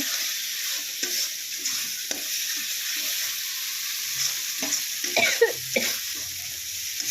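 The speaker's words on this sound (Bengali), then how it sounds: "দেখো, মশলাটাকে এখন ভালো করে কষিয়ে নেব বন্ধুরা।" Spice paste for a drumstick and potato dish with katla fish is sautéed and stirred in a pan, giving a steady soft sizzle with occasional scraping strokes near the end, no talking.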